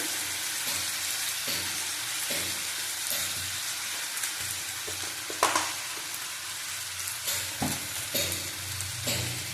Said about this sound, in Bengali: আঁচ বাড়িয়ে কষিয়ে নেব